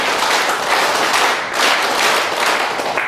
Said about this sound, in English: one more clapping we will have.